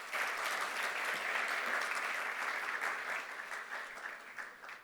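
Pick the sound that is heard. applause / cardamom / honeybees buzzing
applause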